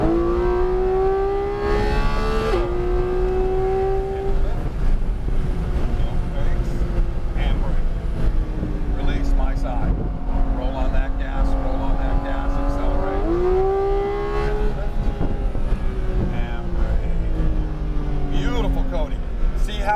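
Sports car accelerating on the Sonoma race track, a loud, continuous engine drone from inside the cabin, rising in pitch with gear shifts, while an instructor talks throughout.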